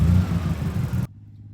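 A Nissan GTR engine runs at a low, even rumble while being driven gently around the block, close and steady before cutting off abruptly near the end, leaving a faint hum.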